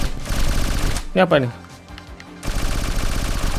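Weapon fire in a Unity-engine platformer game, bursts of rapid shots loud in the foreground, broken by a short quieter gap, with a voice speaking briefly over the shooting.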